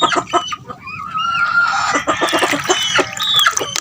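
Several chickens cluck and squawk close by, overlapping calls with a drawn-out crow-like cry in the middle.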